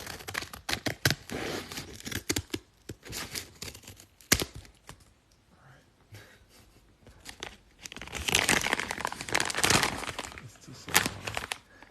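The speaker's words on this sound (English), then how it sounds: "I'm going to cut these open so they're not too loud." Close, crinkly rustling and tearing of plastic with sharp snipping bursts, quiet in the pauses and then a louder stretch of crunching wrap.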